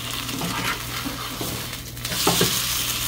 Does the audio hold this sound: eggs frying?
yes